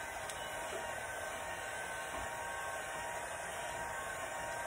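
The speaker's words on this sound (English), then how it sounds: "My heat gun starts, heats up, and then it has to cool off. So it will still be running in the background" A heat gun being used to warm epoxy on a tumbler cup blows with a steady, faint airy whoosh and hum that holds evenly from start to finish, with no talk over it.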